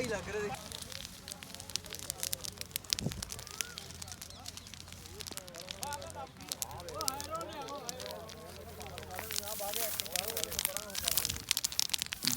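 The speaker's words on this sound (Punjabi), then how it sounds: "ਬਾਲੀ ਤੇਜ਼ ਅੱਗ ਆ ਮਿੱਤਰੋ" Wheat stubble burns across farm fields at Paharpur near Nabha, Punjab, giving a faint, continuous crackling and rushing roar while people talk nearby.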